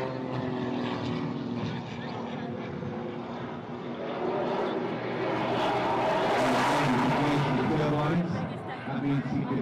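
A Pitts Special aerobatic biplane at an airshow in Ayr, Scotland, climbs fast into the vertical, its propeller engine a loud, steady drone that swells and strains, heard under continuous commentary.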